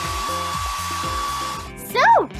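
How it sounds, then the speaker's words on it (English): A steady hair dryer whir blows continuously, loud and close, with a faint tone riding on it, before a brief voice exclaims near the end. "I have a hairdryer!"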